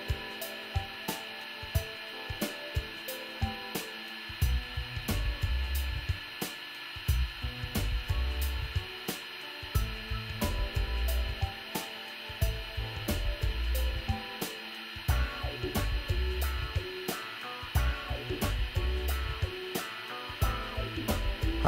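A hot-air heater drying resin on a loudspeaker voice coil, a steady airy blowing hiss lasting throughout with irregular low thumps and clatter from handling, fairly close and moderate in level.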